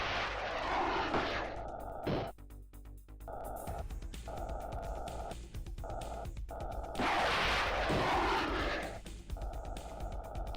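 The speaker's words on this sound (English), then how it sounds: "He's using his afterburners to destroy my missiles, which is pretty clever." Roaring thrust bursts from spaceship afterburners in the space-combat game Star Control II, loud and sustained with several surges and abrupt cutoffs, plus sharp blasts among them and no talking.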